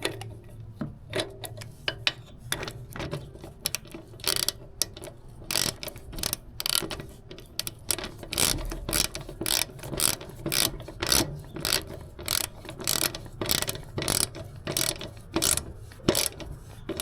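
Ratchet wrench tightening the lowering link bolts on a Royal Enfield Himalayan 411 motorcycle, a long run of close, loud clicking pawl strokes in uneven bursts with brief pauses, no talking.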